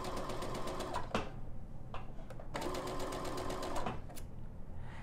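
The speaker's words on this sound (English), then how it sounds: "And then I'm going to sew." A sewing machine stitches fabric for a wide-sleeve dolman-style dress, running in two rapid whirring bursts with brief pauses and small clicks between them, close and fairly quiet.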